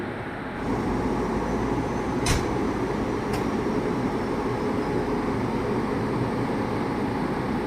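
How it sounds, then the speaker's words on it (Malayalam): WP7 electric locomotive from Krishnarajapuram loco shed, switched on and hauling the Chamundi Express between Mysore and Bangalore, gives a steady loud broadband rumble with two brief sharp clicks partway through. "ഇപ്പോൾ ലോക്കോ ഒക്കെ ഓണാക്കി സെറ്റാക്കി വെച്ചിട്ടുണ്ട്."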